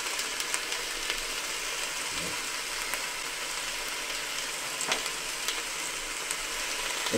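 Garlic sizzles steadily in a hot pan for an oxtail and peanut stew while it is stirred, with occasional scraping of the utensil and stock cubes crumbled in. The frying is close, constant and fairly loud, with no voices.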